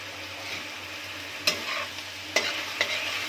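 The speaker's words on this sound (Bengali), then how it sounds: "এভাবে করে নেড়ে দিব কিছুক্ষণ পর করে এসে। আবার রেখে দিব, জাল দিব আর একটু।" Malabar spinach fries gently in a pan under a faint steady sizzle, broken by three or four quick, distinct stirring scrapes spaced a second or so apart.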